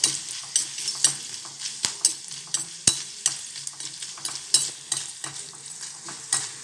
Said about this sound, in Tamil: இந்த மாதிரி பொரிக்கிறப்பயே அது வந்து பெரும்பாலும் என்ன ஆகுதுன்னா வெந்துடும்